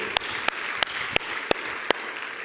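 Church congregation applauding after a sermon, a steady wash of clapping with a few sharper, louder claps standing out at regular intervals, moderately loud and continuous throughout.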